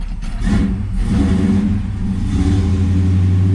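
The engine of a 1973 Z28 with a newly installed roller cam, catching quickly after a brief crank and settling into a loud, steady, rumbling idle close by.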